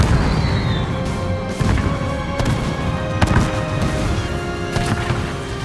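Kodiak artillery firing in a Halo Wars 2 cutscene, a loud, dense barrage of booming blasts and sharp impacts that keeps going for the whole stretch with no pauses, with several heavier thumps standing out from the steady roar.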